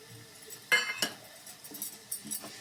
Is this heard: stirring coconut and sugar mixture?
yes